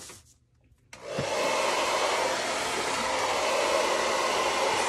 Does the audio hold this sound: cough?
no